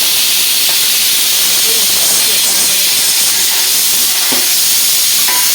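Onions hit a hot pan with a loud, continuous sizzling hiss that stays dense and steady throughout, with faint clinks now and then.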